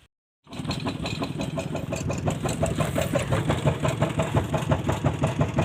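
A farm tractor (rotary-tiller type) engine starts up after a brief silence and runs steadily with a loud, close, chugging idle throughout, no talking over it.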